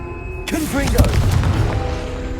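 Confringo, an explosive spell in Hogwarts Legacy, goes off with a sharp burst and a deep booming blast, followed by crackling debris and rumbling that lingers through the rest of the moment.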